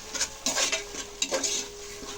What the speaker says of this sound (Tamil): போட்டு இதோட பச்சை வாசனை போகிற வரைக்கும் நம்ம நல்லா வதக்கணும்.